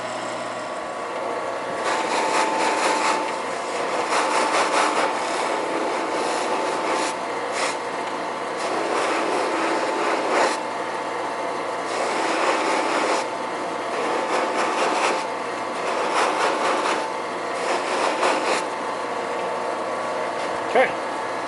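Guitar being sanded with finer-grit paper during a Martin neck reset setup, repeated rubbing strokes in bursts of a second or two with short pauses between them, close and moderate in level.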